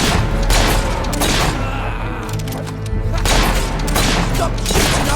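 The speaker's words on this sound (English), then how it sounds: "Stop shooting our boys" Rapid bursts of gunfire from the video game Fable 3 crackle loudly and almost without pause, with heavy thumps and booms mixed in and a brief lull midway.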